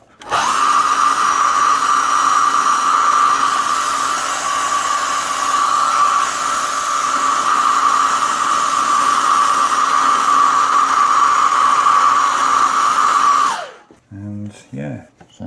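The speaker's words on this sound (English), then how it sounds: "Get my hairdryer out." A hair dryer blows with a steady, loud whine for most of the time, then switches off, followed by brief indistinct sounds.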